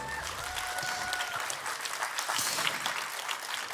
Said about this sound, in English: Give Ronnie a round of applause.